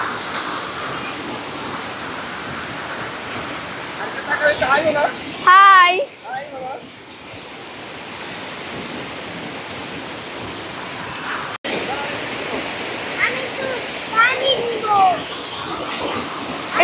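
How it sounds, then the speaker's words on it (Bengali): The Shoilo Propat waterfall in Bandarban rushes with a steady, loud, broad roar from close by. A voice and brief speech break in now and then. "আপনারা ঝর্ণার শব্দ শুনুন।"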